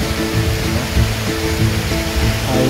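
A tropical waterfall in Aceh Jaya with clear water pouring from above, a loud, continuous roaring wash close by with a faint rhythmic undertone, no voices.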